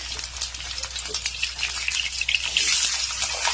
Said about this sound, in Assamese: তাৰপিছত লৈছোঁ মই ফুলকবি এনেদৰে মই ফ্ৰাই কৰি ল'ম।